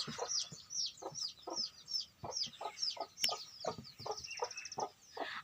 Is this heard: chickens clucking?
yes